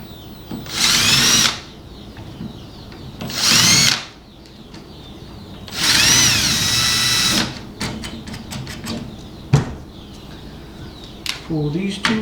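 A power drill countersinks screw holes in a wooden trellis in three separate whining bursts of about a second each, followed by a scatter of light taps and clicks, with a voice speaking briefly in the gaps.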